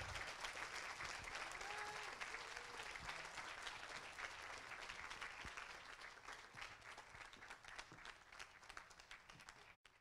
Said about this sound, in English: please give a huge round of applause for Emily Payne